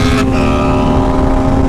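BMW S1000RR superbike with a quickshifter, its engine roaring loud and close in a steady high-pitched note after a brief break at the start.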